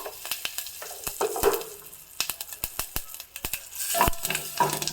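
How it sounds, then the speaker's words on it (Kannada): Asafoetida, turmeric and curry leaves sizzle and crackle in hot oil for tempering, with rapid sharp pops and spatters, alongside occasional clinks of a utensil against the pan. "ಒಗ್ಗರಣೆ ಮಾಡಿಸ್ಕೊಳ್ಳೋಣ ಒಗ್ಗರಣೆ ರೆಡಿಯಾಗಿದೆ ಈಗ"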